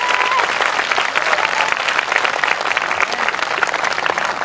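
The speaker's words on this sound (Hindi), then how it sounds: "आइए हम अपने खुदा के लिए एक अच्छी ताली बजाएं।" A church congregation claps together in sustained, dense applause during a Hindi sermon, loud and steady throughout with no pauses.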